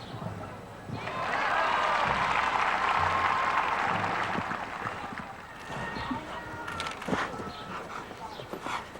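A showjumping crowd applauding Beth Underhill, a swell of clapping rising and fading over several seconds, followed by scattered hoofbeats and a dog barking, with a commentator talking.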